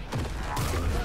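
A double-barrel 12-gauge shotgun fires both barrels at once in Paint the Town Red, a loud, dense close-range blast that rumbles briefly.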